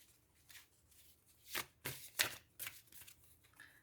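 Tarot cards are drawn and handled up close with a series of soft, quick papery flicks and taps, a few sharper snaps among them, in a quiet room.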